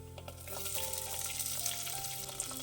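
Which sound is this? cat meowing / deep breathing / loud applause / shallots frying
shallots frying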